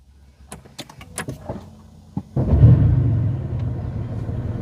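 A Porsche 992.2 Carrera GTS hybrid starts after a few clicks and cabin sounds. The engine catches at once into a close, loud, low rumbling idle that settles and holds.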